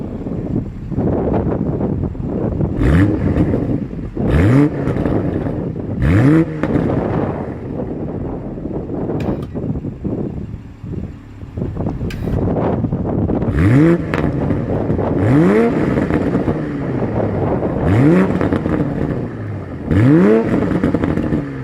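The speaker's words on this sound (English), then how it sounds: "Here is that 2020 Toyota Supra exhaust clip." A 2020 Toyota GR Supra exhaust with brushed stainless steel tips barks through a series of short, sharp revs, each blip rising quickly and falling away, under steady wind noise on the microphone.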